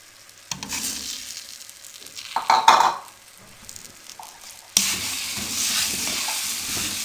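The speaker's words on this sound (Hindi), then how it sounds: "जल्दी जल्दी इसमें चम्मच हिलाएं ताकि ये अंडे इसमें जम ना जाएं" A spoon is stirred quickly through beaten eggs in semolina halwa in a wok, giving a scraping, sizzling mix of metal strokes that peaks with a clatter, then settles into a steady soft hiss.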